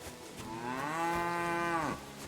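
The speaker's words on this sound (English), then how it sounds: "Moo to you too." A cow in the game Kingdom Come: Deliverance II lets out a single long, loud moo lasting nearly two seconds, rising and then dropping off sharply at the end, heard alone with no talk.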